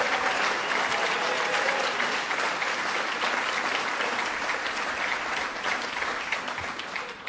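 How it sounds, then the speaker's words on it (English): A crowd at the 2013 Adirondack Challenge awards applauds Senator Betty Little. The round of clapping is dense and steady and fades a little near the end. "Let's give her a round of applause."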